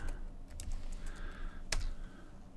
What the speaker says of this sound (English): So let's go back to our command prompt and type disk part.